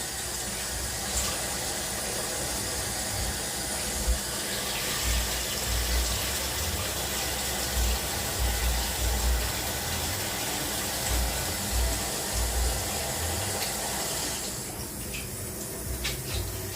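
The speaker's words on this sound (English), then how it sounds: "Okay, now I'm going to add the water. I start with cold water." Steady broadband rush of cold water pouring into a cooking pot, continuous and fairly loud, with a low rumble underneath and no talking.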